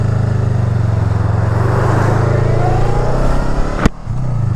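Honda Rebel motorcycle engine riding on a road behind a red truck, a loud steady drone with low rumble and wind rush throughout, then a brief sharp click and a slight dip before the engine sound resumes.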